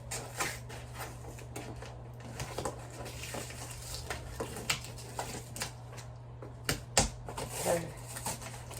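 Packing tape is peeled and ripped off a cardboard shipping box of plants, giving a long crackling, tearing run of irregular snaps and rustles, close and moderately loud with no talk over it.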